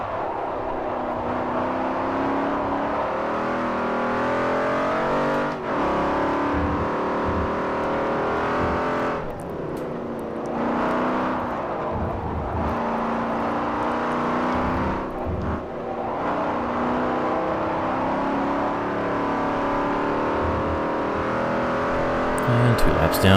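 Racing car engines roar around the Hockenheim circuit in Forza Motorsport 4, a sustained high-pitched engine drone rising and falling through gear shifts and braking, with tire whir underneath and no voices.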